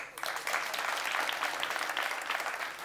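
Audience at a startup pitch event in London clapping steadily, a continuous wash of many hands applauding, moderately distant, with no pauses.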